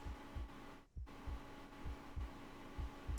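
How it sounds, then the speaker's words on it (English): A steady heartbeat in the game Reverse: 1999, the kind heard from someone just outside a door, thumps in even double beats over a low hum, with a brief dip in sound near the one-second mark. "A heartbeat. Right outside the door."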